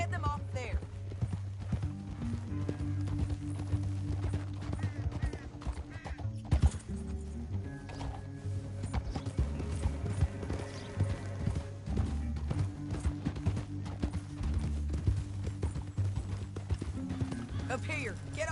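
Horse hooves clip-clop in a steady rhythmic gait in the Red Dead video game, close and continuous, mixed with soundtrack music and game dialogue.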